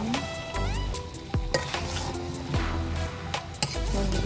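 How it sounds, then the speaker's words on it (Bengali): Chicken pieces stirred and fried with spices in a pot for an Eid chicken roast, a steady sizzle under repeated scraping strokes of a spoon and occasional clinks against the pan, close and fairly loud with no talking. "চিকেনগুলো দিয়ে আবারও মশলার সাথে খুব ভালোভাবে নেড়ে আমি কষিয়ে নেব"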